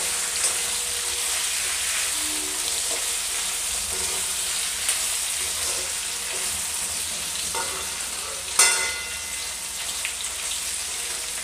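Okra (bhindi) frying in oil over a medium flame, a steady close crackling sizzle throughout with a brief sharper spatter near the end.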